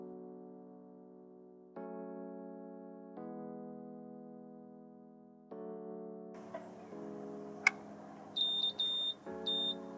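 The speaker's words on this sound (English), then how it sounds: "To be sure, let me test continuity again." A multimeter continuity test during a laptop LCD backlight repair gives a few short, shrill beeps near the end, after quieter sustained tones.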